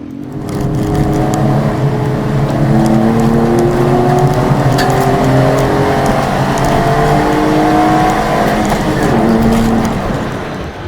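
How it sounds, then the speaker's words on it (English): A race car on qualifying laps at the Race of Remembrance on a drizzly track: a loud, sustained engine drone with rising and falling pitch as it shifts through gears, heard close and continuous. "Ollie set off to complete his qualifying laps"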